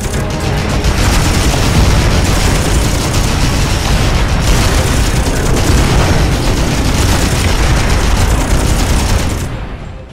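Dense, continuous gunfire and blasts roar through a space combat scene in the game Miner Wars 2081, loud and sustained throughout with overlapping shots and booming explosions, fading slightly at the very end.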